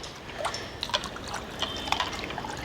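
Water trickles and splashes into a container holding eggshells and aloe vera waste in a steady pour, with small bubbly drips and clinks over a soft background hiss.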